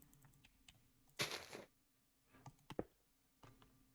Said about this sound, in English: that was a very loud mouse click